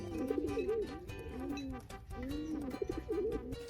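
Pigeons cooing close by in repeated soft rolling phrases, a steady run of low throaty calls with faint background noise.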